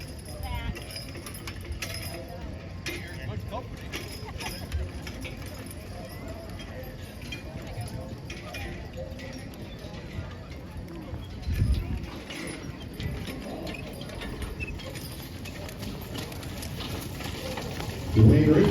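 Draft horse hooves clip-clop on the ground during a farm draft horse show at a county fair in Pike, New York, a steady soft rhythm under crowd murmur, with a handler calling commands to the team.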